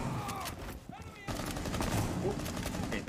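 Shotgun and other gunfire in Rainbow Six Siege, a continuous clatter of shots that drops briefly and then returns, moderately close and faint, mixed with speech.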